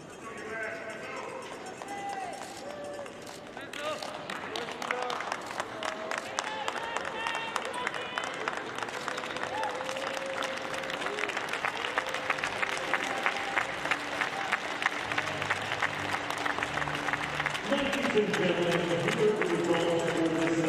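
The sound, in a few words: applause from the home crowd at wheelchair curling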